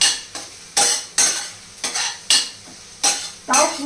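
Chicken fries in a pan with chicken stock nearby, stirred in loud regular scrapes about every half second, each stroke followed by a bright sizzle burst, close up.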